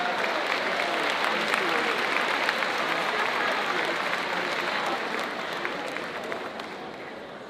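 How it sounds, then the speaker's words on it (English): An audience at a school district opening day gives teachers a sustained round of applause, loud, dense clapping from a large crowd that fades slightly toward the end. "Let's give them a nice round of applause."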